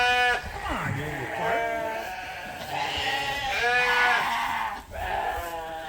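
Lambs bleat repeatedly inside a barn with several overlapping, wavering cries, some close and loud, others further back, and a person talks at moments among them.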